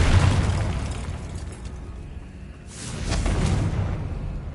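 In Hogwarts Legacy, a Confringo fire spell explodes with a dense, roaring burst of noise that dips briefly, then swells into a second blast close up.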